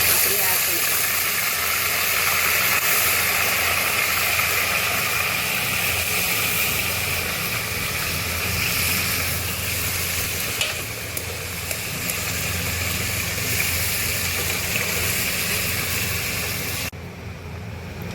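Boiled goat intestine for curry goes into hot oil seasoned with fennel seeds, giving a loud, continuous sizzling hiss that stays steady for the whole stretch.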